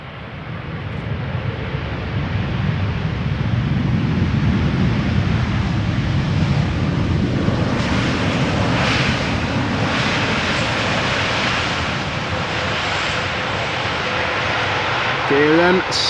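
A KLM airliner arriving at Amsterdam Schiphol on a return flight from New York, its engine roar a loud, steady broadband rumble that holds throughout with a slight swell midway.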